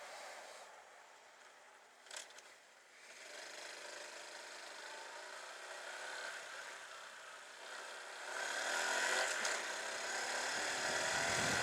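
A Honda Super Cub C125 motorcycle engine rises in pitch as it accelerates, with a brief dip at a gear shift, then climbs louder under rushing wind toward the end.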